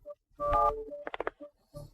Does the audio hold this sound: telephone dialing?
yes